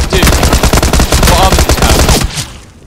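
Rapid automatic gunfire in a multiplayer video game, loud and continuous with dense repeating shots for about two seconds, then trailing off into quieter game noise.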